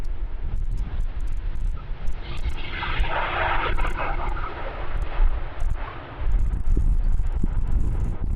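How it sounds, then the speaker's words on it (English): A Delta Air Lines airliner from Atlanta arrives at Amsterdam Schiphol runway 27 in windy weather, its engine roar swelling and fading through buffeting wind noise at the spotting location. "So this would be Delta Airlines flight 74 from Atlanta"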